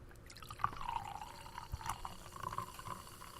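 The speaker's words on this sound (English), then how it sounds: "after we pour these libations" Libation liquid poured out during a daily toast gathering, a steady trickling stream with a few brighter splashes, fairly faint and continuous with no talk.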